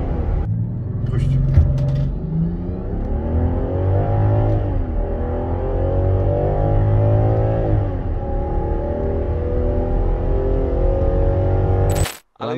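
A Land Rover Defender 130 engine pulls hard under acceleration from inside the cabin, its drone rising in pitch through gear changes, steady and loud, with a brief clunk near the end.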